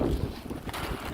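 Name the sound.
wind blowing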